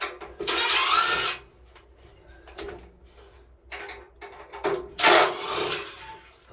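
A fitting being unscrewed inside a homemade diesel submarine gives two loud rasping bursts, one early and one late, with quieter clicks and knocks in between, all close by in an enclosed space and with no talking.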